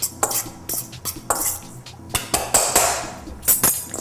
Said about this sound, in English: So I first mix it up with a fork.